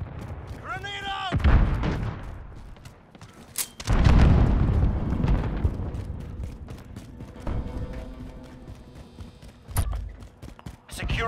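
A grenade explosion in the video game Call of Duty: Modern Warfare goes off as a heavy boom amid loud gunfire, with game voice callouts around it.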